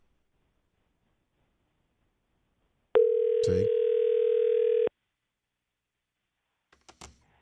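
A telephone call rings through as one steady electronic tone lasting about two seconds against silence, followed by a few faint clicks.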